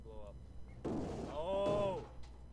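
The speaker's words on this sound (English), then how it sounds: "I think you just made something blow up." A muffled blast goes off in Alien: Isolation, a short low burst followed by a rising mechanical whine, with faint voices in the background.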